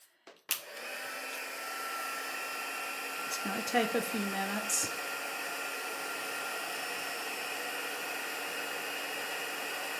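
Heat tool blowing steadily to melt white embossing powder at a craft table, a loud continuous whooshing hum that starts abruptly and holds for the rest, with a brief spoken remark partway through.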